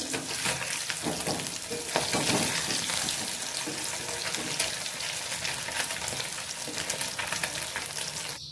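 Pieces of katla fish frying in hot oil, a loud continuous crackling sizzle close by with bursts of spattering and occasional stirring, no voices.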